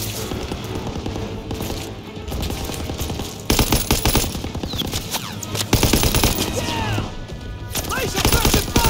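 Machine gun pillbox firing in a World War II battle for Hill 493 in Call of Duty WWII, loud sustained rapid bursts layered with other gunfire and booms, with shouted voices underneath.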